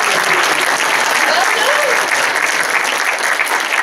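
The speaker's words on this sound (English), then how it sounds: "Round of applause." Loud, dense applause from a live audience at a retro-themed gaming show, steady clapping filling the room for about four seconds with no pause.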